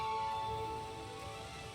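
Rain falls in Hogwarts Legacy as a soft, continuous hiss of drops on surfaces, steady and fairly quiet throughout.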